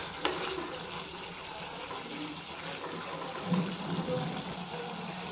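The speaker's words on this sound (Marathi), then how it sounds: "तुम्हाला जर थोडं पातळ हवी असेल ही ग्रेव्ही तर तुम्ही याच्यामध्ये थोडंसं पाणी ॲड करू शकता." Water is poured into simmering bhindi masala gravy, giving a steady, soft gushing wash that runs throughout at moderate level with no talk.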